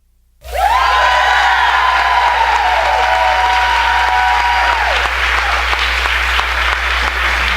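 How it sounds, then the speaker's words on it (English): A large crowd applauds the musicians at a public menorah celebration, loud sustained clapping with some cheering and whoops that swell, then settle into steady applause. "We want to pause for a huge round of applause for the musicians of thru"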